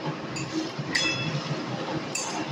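A utensil clinking against a pan while pumpkin curry with a splash of hot water is stirred, light metallic taps repeating over a steady frying hiss.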